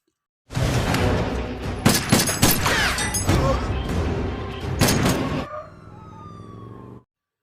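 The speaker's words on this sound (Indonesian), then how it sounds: "Baku tembak pun terjadi." A gunfire shootout in the film Falcon, with armed attackers ambushing a man. Several sharp, loud shots crack over a wailing siren and a dense, chaotic background before everything abruptly fades.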